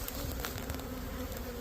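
Honey bees buzz close by during a late-February hive inspection, a steady droning hum with several insects overlapping, loud and continuous with no talking.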